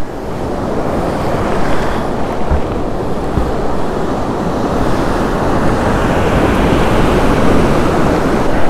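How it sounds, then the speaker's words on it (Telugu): Rough, aggressive sea waves at Kothapatnam beach roar continuously and loudly, with steady surf wash and gusting wind noise buffeting the microphone and no voices. "కానీ ఈరోజు చాలా అగ్రెసివ్గా ఉంది ఏందో సముద్రం"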